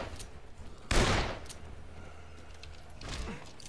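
A revolver fires in Dead Island Riptide: one sharp, loud shot with a decaying tail, followed a couple of seconds later by a fainter second report over low background noise.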